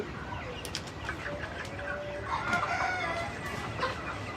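Sonali chickens on a poultry farm cluck and murmur softly at a distance over a steady background hiss, with a few faint higher calls scattered through.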